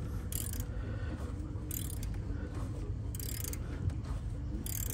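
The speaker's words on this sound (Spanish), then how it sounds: "Ahora le vamos a dar con una llave 3/4 para que empiece a botar." A 3/4 wrench turns a pulley-holding tool on the water pump of a 2008 Chrysler 300 3.5L, giving a steady, continuous mechanical ratcheting and grinding up close, with periodic brighter bursts and no talk.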